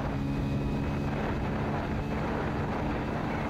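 A Hero Splendor Plus motorcycle pulling in third gear at speed, its steady engine drone largely buried under loud, continuous wind rush for the whole stretch.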